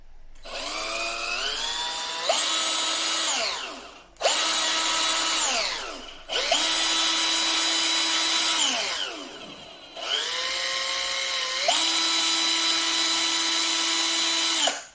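Einhell TE-CD 18/40 Li cordless drill motor whirring loudly in four separate bursts, each winding up and settling to a steady pitch with brief gaps between runs, no talking.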